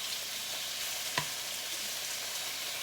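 Beef sizzling in a pan on medium-high heat while being flipped for a beef and broccoli stir-fry, a steady close hiss with a single brief knock of a utensil.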